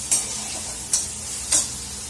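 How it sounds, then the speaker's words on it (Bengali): Onions fry in a pan for egg bhurji, a constant close sizzle with three evenly spaced scrapes of a spatula stirring, and no voices. "ডিমের ভুজির জন্য আমি পেঁয়াজ ভাজছি"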